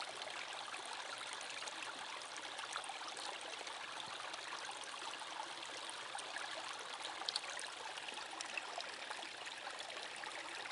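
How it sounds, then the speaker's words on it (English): A small waterfall and stream in Uvas Canyon, California, heard from a distance. A steady, even rushing hiss of falling water runs throughout with no breaks and no voices. "The very little waterfall in the distance."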